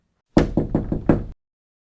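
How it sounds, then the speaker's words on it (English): Four firm knocks on a front door, evenly spaced and close, in a single short burst followed by silence. "Hi, I'm just knocking your door to see if you want to buy a conservatory."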